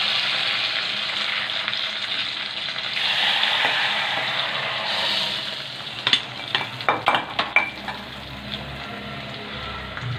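Dried red chillies and curry leaves sizzle in hot tempering oil for drumstick sambar, a loud steady hiss that fades after a few seconds, then a run of sharp metallic clinks and scrapes as the pan is stirred.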